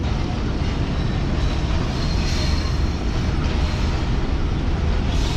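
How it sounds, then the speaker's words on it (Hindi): The 12 Down Hazara Express, running between Havelian and Karachi, roars past at close range with a steady, loud rush of rolling wheels and rattling carriages, continuous and unbroken throughout. "हमारी ट्रेन को क्रॉस करने के लिए आ रही है हवेलियां और कराची के दरमियान चलने वाली 12 डाउन हज़ारा"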